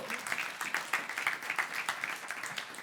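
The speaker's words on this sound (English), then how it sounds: "once again, let's have another round of applause for Russ, everybody." Round of applause from an audience at a health-tech showcase, steady dense clapping throughout at moderate level, with a voice faintly audible underneath.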